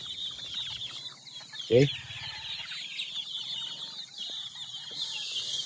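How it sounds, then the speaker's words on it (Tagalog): Small chicks on a farm peep and cluck in rapid high chirps throughout. A louder cluck from a hen stands out briefly, and a person speaks a single word. "Doon sa kabila yung mga sisiyo na mga maliliit"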